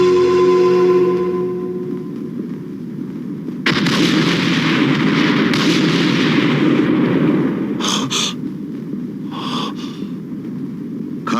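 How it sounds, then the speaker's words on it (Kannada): Bomb blasts destroy a godown in a Kannada action film scene, with a heavy rumbling roar that swells abruptly and sustains loudly, followed by several sharp bursts near the end. "ಈಗ ನಿನ್ನ ಗೋಡೌನು ನನ್ನ ಬಾಂಬ್ ಸಿಕ್ಕಿ ಹೇಗೆ ಉರಿದು ಬೂದಿ ಆಗುತ್ತೆ ಅಂತ ಈ ಶಬ್ದ ನಿನಗೆ ತಿಳಿಸುತ್ತೆ"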